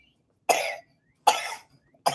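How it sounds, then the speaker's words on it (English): A man coughs three times, each a sharp, fairly close harsh burst separated by short silences, alone with no talk. "It's funny because he's coughing."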